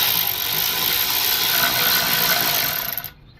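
A ratchet tightens a screw during reassembly of a Honda GX160 mini bike engine, giving a dense, loud, continuous clicking whir up close that cuts off sharply after about three seconds, with no talking.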